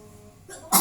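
A woman in a basic nursing skills practice session takes a deep breath, then gives one forceful, deliberate cough: a single short, loud burst near the end after a quiet stretch.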